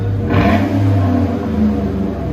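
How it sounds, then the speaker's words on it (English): A 2015 Chevy Silverado Z/71 LTZ with a 5.3L V8 and full custom dual exhaust revving loud and close, one rising throaty blip over a deep rumbling idle. "Rev it up."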